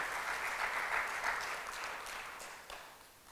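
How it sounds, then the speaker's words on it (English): An audience at a retail conclave applauds Lulu Group, a steady crowd-wide clapping wash, moderately distant, that swells briefly and then tapers off toward the end, with no voices. "A big round of applause for Lulu"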